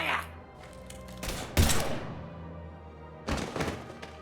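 Gunfire erupts in the video game Mass Effect 3 as two short, heavy bursts of booming shots and thuds, one after the other, amid game noise and voices.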